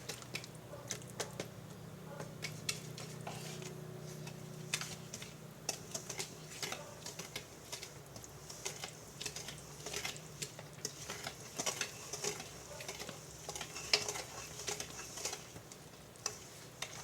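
Wet and dry chocolate cake ingredients being stirred together in a bowl, a continuous soft wet sloshing and scraping with small clicks, close and steady throughout.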